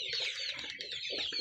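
Two-month-old Andijan black chicks cluck and peep in a steady, busy chorus close by, with no talk over them.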